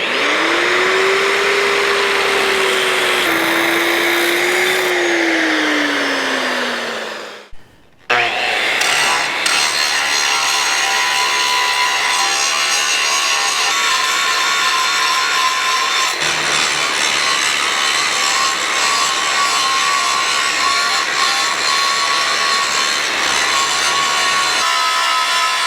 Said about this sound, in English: I think I'm just going to do my cutoff wheel and cut this little blank out.